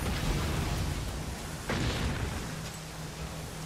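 Bomb blasts in the Nioh video game, with a dull boom partway through over a steady, rumbling in-game background, no clear talk.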